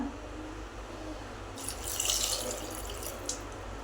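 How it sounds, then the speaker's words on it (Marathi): Water pours into a bowl of spinach and chana dal mixture, a soft, steady splashing gush that rises midway and runs for a couple of seconds, quiet and alone. "आता त्यामध्ये आवश्यकतेनुसार पाणी टाका"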